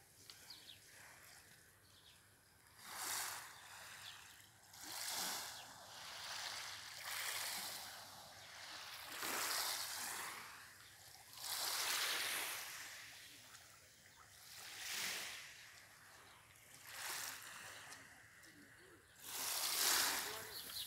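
Morning sea waves washing onto a Turkish shore, soft surges rising and falling roughly every two seconds, fairly faint with a gentle hiss between swells.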